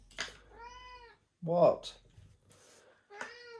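A cat meows several times nearby in a workshop, separate drawn-out calls with pauses between them, and a person speaks briefly among them.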